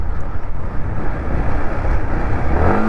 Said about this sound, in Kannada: ಇಲ್ಲಿ ನೋಡ್ರಿ, ಹಿಂಗೆ ಆ್ಯಕ್ಸಿಲೇಟರ್ ಕೊಟ್ಬಿಟ್ರೆ ಎಷ್ಟೊತ್ತು ಆದಮೇಲೆ ಡೌನ್ ಆಗುತ್ತೆ.